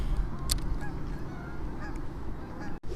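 Geese honking near a fishing spot, several calls scattered over a few seconds at moderate distance, set against a steady outdoor background with no speech.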